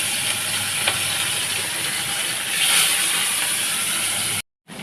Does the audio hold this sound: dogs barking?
no